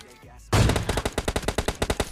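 Automatic gunfire in the video game PUBG Mobile Lite: after brief quiet, a sudden loud burst of rapid evenly spaced shots rattles on for over a second.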